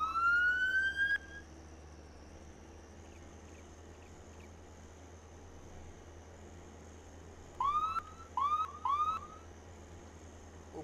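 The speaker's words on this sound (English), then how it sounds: "Blip the siren there for a moment." A police siren in Farming Simulator 22 whoops once, then after a quiet stretch gives three short rising blips in quick succession, over a low steady hum.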